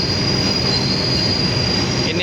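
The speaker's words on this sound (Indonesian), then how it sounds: "Jalur 1 masuk kereta api Doho Penataran ya teman" The Dhoho Penataran commuter train pulls into track 1 at a station, its wheels grinding and squealing steadily on the rails in a loud, continuous rumble close by.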